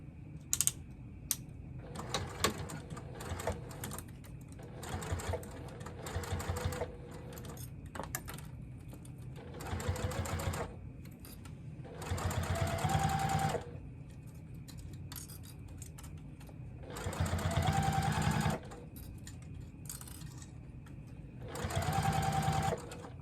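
A sewing machine stitches around a wristlet strap at a narrow 1/8-inch seam, running in short bursts of quick whirring broken by clicks and taps as clips and a swivel hook are moved aside.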